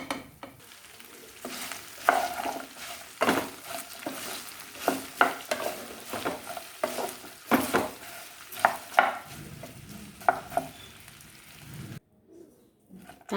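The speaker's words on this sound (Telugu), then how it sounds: "బాగా వేగిన తర్వాత బెండకాయ ముక్కల్ని వేసుకుందాము." Okra pieces fry in hot tempering oil, a soft sizzle with repeated scraping and clinking as a spoon stirs them in the pan, irregular stirring strokes over steady frying, then a brief near-silence at the end.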